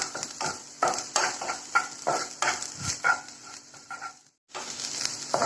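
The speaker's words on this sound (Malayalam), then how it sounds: "എന്നിട്ട് നന്നായിട്ടൊന്ന് മിക്സ് ചെയ്യാം." Vermicelli upma with curry leaves is stirred in a pan, with repeated rhythmic scraping strokes over a soft frying sizzle, close and moderately loud, pausing briefly near the end before resuming.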